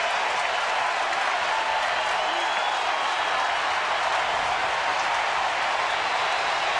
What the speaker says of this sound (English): And the crowd with 2 strikes now to its feet in support of Brian Wilson